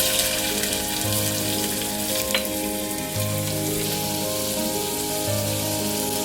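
Onions and two or three cloves frying in two spoons of oil for a mutton gravy curry give a loud, continuous close sizzle, with a soft low hum running underneath.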